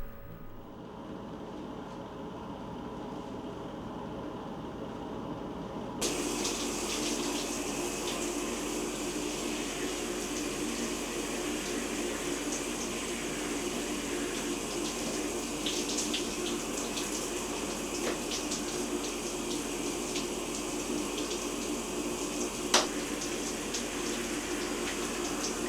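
Shower water runs in an apartment bathroom, a steady broadband hiss that starts abruptly and continues unbroken for about twenty seconds, with a single sharp knock near the end and no talk.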